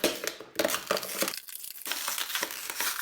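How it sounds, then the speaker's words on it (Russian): Plastic PET bottles are crushed by hand, making loud, close crackling and crinkling. The bursts come in quick clusters with a brief lull partway through, and no one speaks. "чтобы они занимали меньше места, я их сминал"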